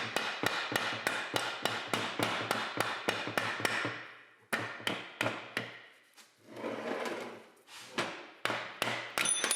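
Sharp, ringing hammer blows strike a Roxor transfer case output shaft to drive out the bearing cups, a rapid run of about a dozen evenly spaced hits, then more uneven blows after a brief pause, close and loud.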